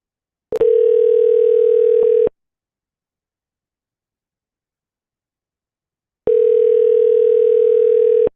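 Two long telephone ringback tones sound while a call is being placed, each steady buzz lasting under two seconds and separated by about four seconds of silence.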